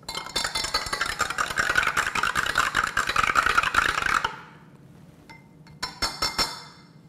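A spoon rapidly clinks and rattles against a glass while stirring a drink mix, a fast busy run that stops abruptly, followed by a few lighter taps.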